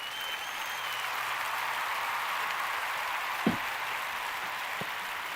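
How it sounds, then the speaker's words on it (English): Applause effect triggered from a clap button on a live talk show, a steady wash of crowd clapping filling the whole stretch at moderate level, with a couple of brief sharp bumps near the end. "Joe's playing with the clap buttons. He's got access to clap buttons and things."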